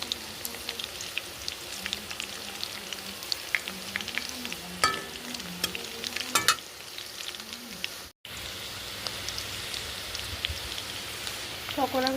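Chicken pakoras fry in oil, a dense, continuous crackle and sizzle up close, broken by a few utensil scrapes as pieces are turned and a brief cut near the middle, with no voice.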